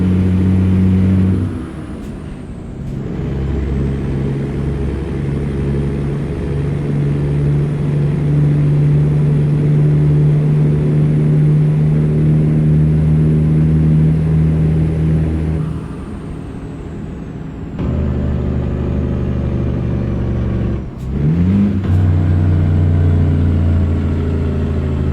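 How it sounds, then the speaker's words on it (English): A Caterpillar 6NZ diesel engine in a Kenworth W900 truck in American Truck Simulator drones steadily and loud, with a brief dip around three seconds and a pause near sixteen to eighteen seconds before the rumble resumes, plus an air-brake hiss. "it's been given a new engine. It's the Caterpillar 6NZ."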